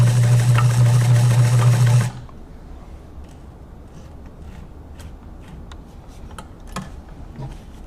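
A Kenmore 1207 sewing machine stitches a test seam in a fast, close, rhythmic whir for about two seconds, then stops, leaving a quiet room with a few faint clicks and taps.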